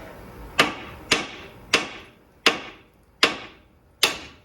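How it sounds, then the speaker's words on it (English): Six sharp metallic hammer strikes on a seized ball joint bolt of a Subaru, at a steady, slow rhythm, each ringing briefly and decaying, close by with no talking. "see if you can just hammer up on it, see if it'll go"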